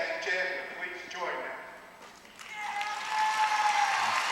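A crowd at a 1996 high school boys basketball game gives a standing ovation, sustained clapping and cheering that dips briefly then swells again, with an announcer's voice over it.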